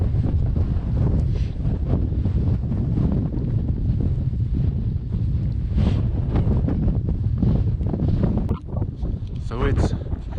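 Strong, cold wind blows outdoors on a Colorado pronghorn hunt. It buffets the microphone with a loud, continuous low roar and gusty rumble, with a brief dip near the end.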